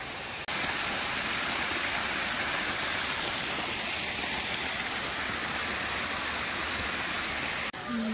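Waterfall at the Cascate dei Capelli di Venere, a steady, dense roar of falling water that fills the whole stretch loudly and evenly, with no voices over it.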